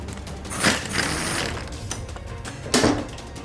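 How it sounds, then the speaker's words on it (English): A 1/2-inch impact wrench backs out bolts during an Acura/Honda transmission teardown, sounding as two short, loud mechanical rattling bursts separated by quieter clicking and shop noise. "I use a 1/2" impact wrench. It just makes it easier with the bolts. They come out quicker."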